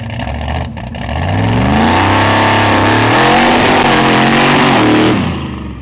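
Supercharged big-block Chevy mud truck engine revving hard, a loud, close, deep roar that climbs and holds for several seconds before dropping off, with no talking.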